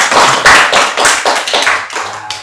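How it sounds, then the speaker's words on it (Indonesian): Rhythmic group clapping at a school gathering of teachers, several sharp claps in a steady beat, loud and close with no talk over it. "Tepuk tangan dulu."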